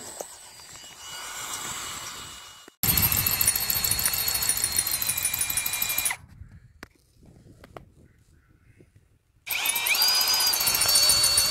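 Power drill running loud and close during wind tower test-fit and assembly work, with two long bursts of whining motor separated by a quieter stretch of faint handling noise.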